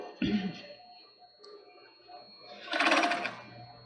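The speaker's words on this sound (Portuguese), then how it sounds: "E a intenção nossa é costurar em cima da overlock." An overlock sewing machine stitches a child's swimsuit in two bursts: a short whirring run, a quiet pause, then a longer, louder buzzing stretch close by.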